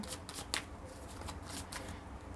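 Tarot cards being shuffled by hand, several quick riffling bursts with brief pauses between them, close and fairly soft, with no voices.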